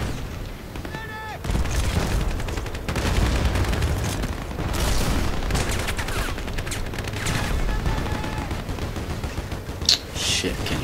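Rapid gunfire and explosions from Battlefield Play4Free crackle continuously and loudly, bursts of automatic fire layered with booms, while players talk over the battle.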